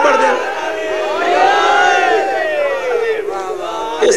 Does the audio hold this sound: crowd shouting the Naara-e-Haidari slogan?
yes